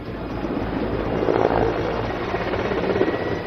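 A military helicopter, Mi-17 or Chinook heavy-lift, drones steadily at a moderate distance, a low continuous rumbling roar with a faint throb and no voices.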